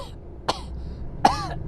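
Two short bursts of throat clearing and coughing from one person, close and fairly loud, with near silence between them and no talking.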